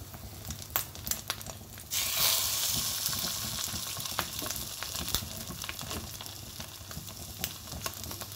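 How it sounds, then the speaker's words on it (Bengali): Bread toasting with egg in a frying pan in a home kitchen gives a steady close sizzle, growing louder after a couple of seconds, with scattered crackles and utensil clicks throughout. "ওকে, তো আমি হচ্ছে এখন ব্রেডগুলো টোস্ট করে নিব"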